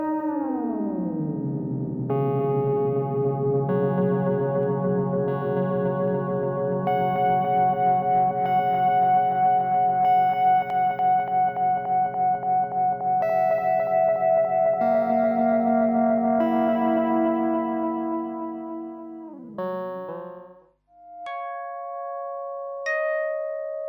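Echo King tape echo delay on a Polyend Endless pedal, sustained synth-like chords smeared by repeating vintage tape echoes, pitch dropping and warbling near the end before sparse bright notes ring out alone.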